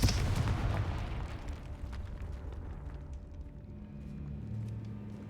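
Confringo fire spell exploding in Hogwarts Legacy, a loud burst at the start that rumbles and fades into a low, noisy tail over several seconds, with faint game ambience continuing underneath.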